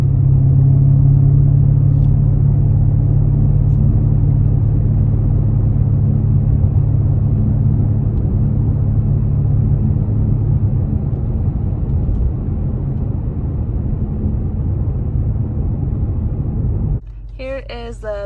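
Steady low rumble of a 2020 BMW M8 engine cruising at 45 mph in Sport mode, a constant deep drone with road noise heard from inside the cabin, ending in a brief burst of clicks.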